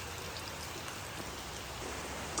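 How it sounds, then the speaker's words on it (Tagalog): Rain falling outdoors, a soft steady hiss of drops pattering on surfaces, faint and even throughout with no voices. "Uy, umuulan na naman."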